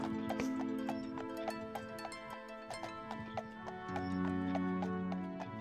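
Steady clip-clop of a horse's hooves in the video game Daggerfall Unity, a regular rhythm of hoofbeats over constant background music, fairly close and moderately loud.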